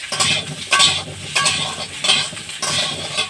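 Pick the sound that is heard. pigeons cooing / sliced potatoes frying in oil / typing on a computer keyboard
sliced potatoes frying in oil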